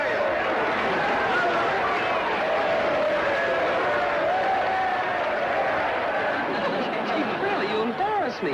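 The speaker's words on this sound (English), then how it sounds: "This crowd is going wild." A TV studio audience at a wrestling bout claps and cheers steadily, a thick wash of applause with excited voices and shouts mixed throughout.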